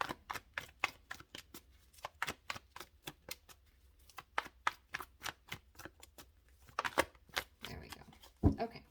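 Tarot cards shuffled by hand in a steady run of crisp, close riffling snaps, ending in a few louder slaps and rustles as cards are drawn and laid down.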